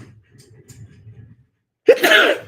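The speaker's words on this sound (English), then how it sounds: "gotta sneeze, sorry" A person sneezes once, sharply and close to the microphone, after a moment of soft, quiet breathing and murmuring.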